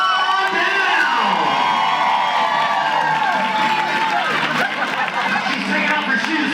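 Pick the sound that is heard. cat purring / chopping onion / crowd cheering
crowd cheering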